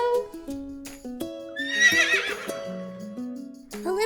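A foal on a farm gives a high, wavering whinny in the middle, set among musical tones and a few soft hoof clip-clops, close and clear with no talking.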